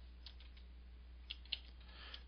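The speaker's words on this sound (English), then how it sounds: "I can use my left and right bracket keys on the keyboard" A few faint, scattered keyboard key clicks over a steady low hum, quiet and close, with no talking.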